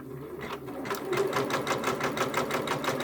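A Janome embroidery machine stitches a quilt block in the hoop, rapid regular needle pulses starting up after a brief pause and running steadily at close range.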